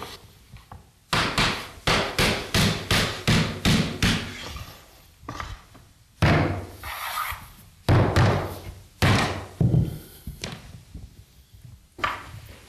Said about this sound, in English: it will sit like that until you hammer it in